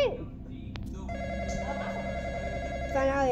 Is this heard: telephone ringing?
yes